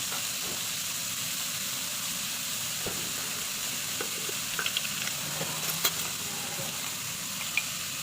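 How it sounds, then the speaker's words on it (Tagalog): Garlic for shrimp sinigang sizzles in a pan in a steady, close hiss, with a few light taps and clicks from stirring scattered through it. "Lagyan natin ng konting bawang."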